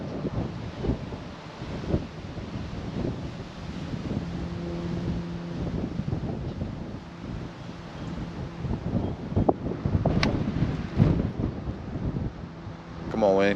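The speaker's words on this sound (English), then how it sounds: "Oh my goodness, that wind." A strong gale-force wind blows across a golf course, roaring and buffeting the microphone continuously for the whole stretch, with faint voices underneath.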